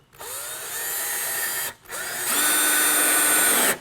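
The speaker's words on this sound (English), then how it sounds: "I'm just going to put these few little screws in it here just to hold it in place" A power drill drives small screws into a wooden saw horse, whirring steadily in two loud bursts with a brief pause between them, the second rising higher in pitch.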